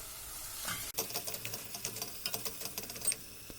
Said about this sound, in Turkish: Önce salçamızı iyice kavuruyoruz.